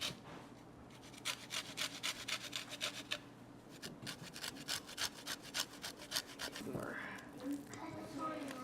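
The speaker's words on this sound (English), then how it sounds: "get a zester and scrape off all the skin off the lemons" A zester scraping the skin off a lemon for cupcake frosting, a rapid run of close, rhythmic raspy strokes, with faint talk underneath.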